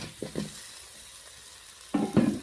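Fried potatoes are turned in a pan with spices for a fish and potato curry, with a few short scraping stirs and a soft background sizzle.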